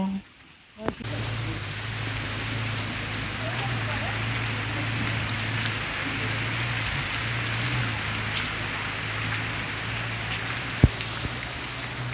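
Steady rain falls on a home garden with fruit plants, a dense close patter on surfaces alongside a low continuous hum, with a few louder drips and knocks.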